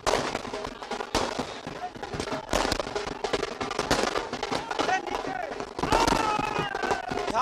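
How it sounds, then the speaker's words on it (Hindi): Firecrackers at a Jharkhand Chamber of Commerce election celebration crackle and bang in dense, repeated bursts, loud and continuous, with crowd noise mixed in. "बाईं तरफ पटाखों का दौर भी जारी है"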